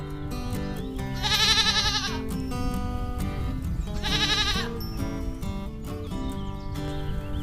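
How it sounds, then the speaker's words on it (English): Goats being herded on an Indian farm bleat in two loud, wavering calls a few seconds apart, close by, over a steady rural background. "This little girl is herding the goats."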